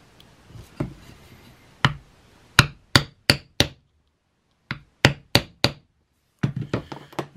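Hammer blows setting rivets into a leather knife sheath, sharp knocks in quick clusters of three or four with short pauses between, close and loud.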